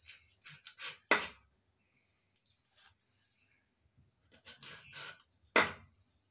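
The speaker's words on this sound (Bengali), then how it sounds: "এইভাবে আমের টুকরোগুলো করে নিচ্ছি" A knife cuts raw mango with a hardened seed into pieces: sharp, close chopping strokes in two clusters separated by a quiet pause, some cuts crisper and louder than others.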